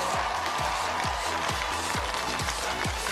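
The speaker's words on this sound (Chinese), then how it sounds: "掌声有请马潇潇" A studio audience at a televised talent show applauds continuously, a dense even wash of clapping welcoming the next contestant, with a rhythmic low thumping pulse running underneath.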